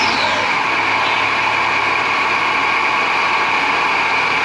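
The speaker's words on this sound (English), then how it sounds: "Starting's the engine." A 2010 Chrysler PT Cruiser engine running at a steady idle after a first start in months, a loud continuous mechanical drone with a constant whine, close by and with no voices.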